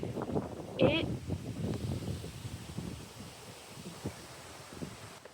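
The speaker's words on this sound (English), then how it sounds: "It's windy. We are about to have a major storm come through." Gusty wind buffets the microphone in low rumbling bursts while a person speaks faintly underneath.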